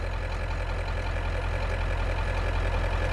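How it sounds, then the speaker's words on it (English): A Ford E350 van engine idles steadily, a low continuous rumble with a faint knocking rhythm, alone and unchanging throughout. "The engine is still running."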